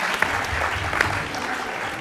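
An audience at a film preview colloquium claps in dense, sustained applause that fills the whole short moment.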